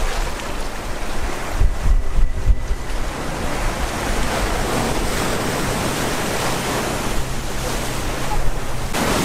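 Rough ocean surf at a rocky Malibu beach near sea caves: a loud, continuous roar of crashing and washing water with wind buffeting the microphone, no voices.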